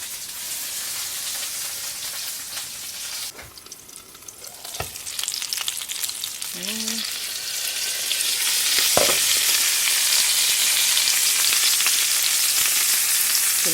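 Meat cutlets sizzle steadily in a frying pan in a village kitchen, a dense continuous hiss that grows louder partway through, broken by a few sharp clicks and scrapes.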